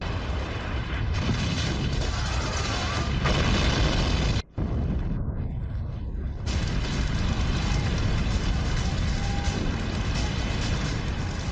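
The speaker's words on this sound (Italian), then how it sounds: "All'improvviso, un'esplosione squarcia la roulotte." A loud, sustained roaring blast from a trailer exploding at a Texas refinery fills the scene, broken by a sudden momentary cutout, then a continuing heavy rumble of explosion and debris.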